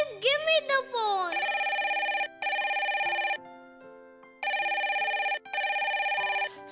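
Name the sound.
telephone ringing with an incoming call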